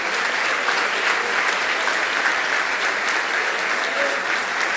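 Church congregation applauding during a 2019 gathering and fellowship event, a steady, dense wash of clapping that fills the whole stretch without pause.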